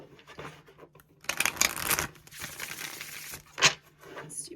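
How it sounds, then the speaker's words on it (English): A divination card deck being shuffled by hand, with bursts of riffling and soft papery crinkling that rise and fall in a few close, steady passes with no talking. "Let's do one more shuffle."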